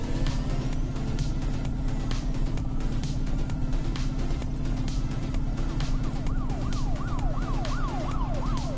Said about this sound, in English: I'm sure the sound of sirens getting louder as we approach Joe is nothing to worry about at all.